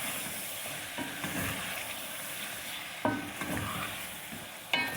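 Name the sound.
chicken frying with ginger and garlic for chicken karahi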